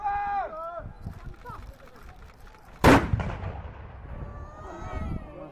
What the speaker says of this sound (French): La pièce étant amorcée, coup de feu.